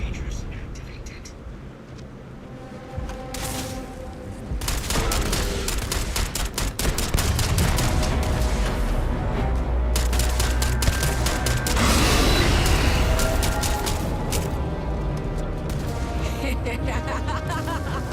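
Dense automatic and rapid gunfire in the space-combat game Starfield, with bursts stacking into a loud, continuous fusillade that builds after a quieter start. Game voices speak underneath the shooting.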